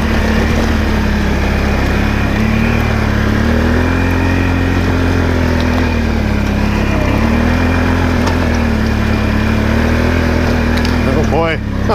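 Can-Am Maverick 1000 side-by-side engine droning loud and steady throughout a hilly off-road ride, with a rising rev near the end.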